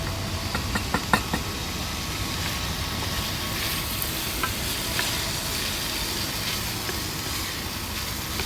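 Patty pan squash and portabella mushrooms fry in a pan, a dense, steady sizzle that holds evenly throughout, with a few light utensil taps early on.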